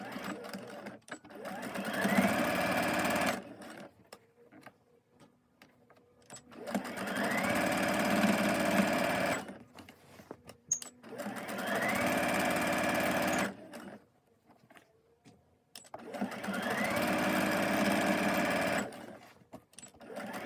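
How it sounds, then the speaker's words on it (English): A sewing machine top stitches along the edge of a fabric scrub bag in four steady whirring runs of a few seconds each, separated by short quiet pauses. "So we're gonna top stitch right by the edge."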